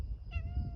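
A cat meows once, a short clear call close to the mic over low rumbling background noise.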